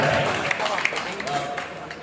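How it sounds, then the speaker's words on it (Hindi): An audience at an Urdu-Hindi mushaira poetry gathering claps in a steady, moderately loud burst, with voices speaking over the applause. "जोरदार तालियां एक मरतबा हो जाए।"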